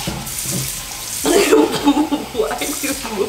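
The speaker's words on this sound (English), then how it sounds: "turn the water on" Kitchen or bathroom tap turned on, water gushing into a sink with a steady splashing rush, close by, while people talk over it.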